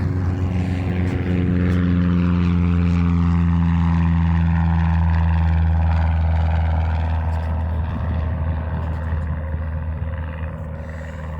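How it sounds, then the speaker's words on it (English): A small propeller plane takes off from the airport in Morristown, Tennessee, its engine a loud, steady drone that holds strong throughout and fades slightly toward the end. "Oh, we got a plane taking off right here."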